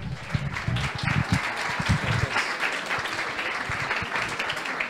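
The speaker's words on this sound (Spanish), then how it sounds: "Un grandísimo aplauso para el doctor Claudio Estevedulin." An audience at a vegan nutrition talk applauds a doctor as he is introduced. The clapping is moderate and fairly distant, with some louder low thumps early on that settle into a steady patter.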